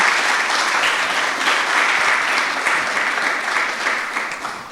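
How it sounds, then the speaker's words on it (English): Audience at a university panel discussion gives a round of applause, a dense, even wash of clapping that holds steady throughout and tapers slightly at the end. "a round of applause for this wonderful discussion"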